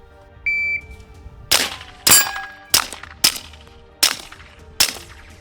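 Six sharp pistol shots fired as three quick pairs at three targets, each crack loud and close with a ringing decay, preceded by a brief electronic shot-timer beep.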